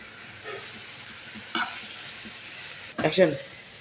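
Banana flower (mocha) mixture with Kashmiri red chilli, turmeric, cumin and garam masala frying in a pan, a soft sizzle with a few brief stirring scrapes and a louder burst of sizzling and clatter near the end.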